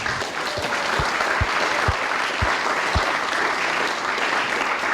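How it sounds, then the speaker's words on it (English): Full-room applause fills an entrepreneur night event, a continuous broad clatter of many hands with a few low thumps spaced through it. "So can we give them all a round of applause to start with?"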